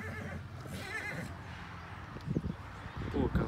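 A horse whinnies with a wavering neigh early on, followed by heavier thumps and shuffling nearby, while someone talks in the background outdoors.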